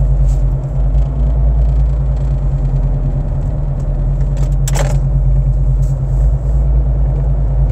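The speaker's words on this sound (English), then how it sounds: "What is that annoying vibrating sound?" Inside a moving car, a constant low engine and road rumble drones on, overlaid with a buzzing vibration rattle and a brief jangling clatter midway, loud and close throughout.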